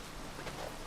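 Steady rain falls at Thieves Landing in Red Dead Redemption 2 as a dense, even hiss of drops, with no voices over it.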